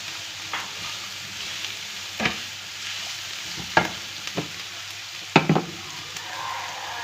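Carrots and shredded cabbage hit a hot frying pan for kebab, giving a steady soft sizzle with a few sharp scraping clicks of a spatula against the pan, fairly quiet and close.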